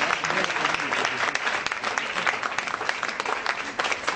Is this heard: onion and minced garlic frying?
no